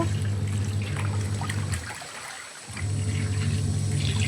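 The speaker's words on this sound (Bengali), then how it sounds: "এখনও নোংরা জল বেরোচ্ছে" Dirty water draining out in a steady gurgling flow with a low droning hum, easing off briefly midway before the rushing and trickling resumes at full strength, close and continuous.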